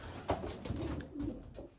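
Young pigeons in a breeding loft give soft, low cooing calls that swell and fade over a couple of seconds, close to the microphone with light rustling behind them.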